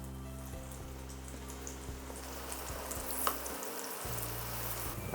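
Bananas fry in a pan with a spoonful of brown sugar over a low gas flame. A faint, even sizzle continues alone under a steady low hum, with a few soft clicks.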